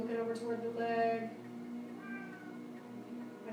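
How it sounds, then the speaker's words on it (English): A house cat meows repeatedly in drawn-out, talkative calls, close and clear over a voice guiding a gentle yoga session in the room. "My cat likes to talk."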